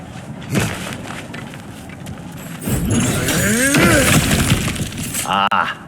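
Cracked ground is smashed apart in God of War Ragnarök, giving sharp breaking and crumbling crashes with debris scatter, mixed with game effects, a metallic ring and ambient music in the background.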